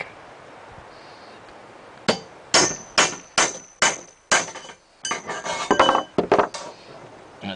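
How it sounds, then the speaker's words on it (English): Several sharp metallic clangs as a hammer strikes a steel punch to mark a pipe for a swing set frame, a quick run of evenly spaced blows followed by a denser cluster, close and loud over quiet background. "Get our punch in there and make my mark."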